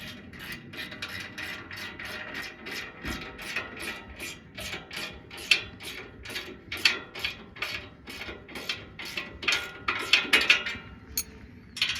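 A ratchet clicks rapidly and steadily while tightening bolts to raise a TW-LD Series table grate, the close, loud pawl clicks running in quick repeated strokes with occasional metallic clinks.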